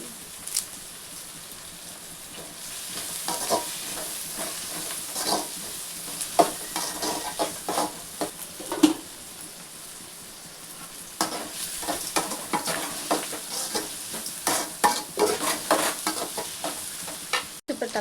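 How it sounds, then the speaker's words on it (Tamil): Crushed garlic and curry leaves sauté in a hot pan for a Tamil fish curry, a steady close sizzle with stirring clatter and occasional louder pops throughout. "தட்டி வச்ச பூண்டு எல்லாம் வதக்கிக்கலாம்."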